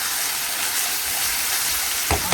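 Chicken egg-roll filling fries in a pan with a steady, close sizzling hiss, and a couple of brief clatters near the end.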